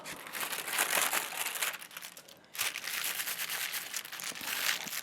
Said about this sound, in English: And then the noisy deli paper.